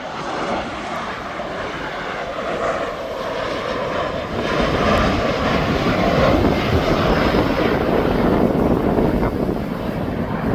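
A Ryanair airliner at East Midlands Airport, its jet engines roaring loud and close as a broad, steady rumble that swells toward the middle and holds, with no voices.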